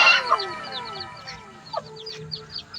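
Bantam chickens cluck and peep softly near hatched chicks and eggs in a backyard coop, with several overlapping chirping calls over a faint farmyard background.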